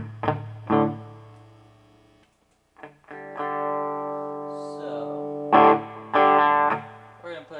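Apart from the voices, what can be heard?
electric guitar through Fender Hot Rod Deluxe III crunch channel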